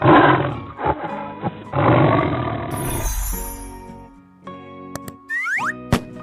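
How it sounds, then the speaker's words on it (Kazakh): A leopard lets out a few harsh, rasping roars up close over the first few seconds, then a low rumble gives way to quick springy boing effects and sliding tones. "Қабылан"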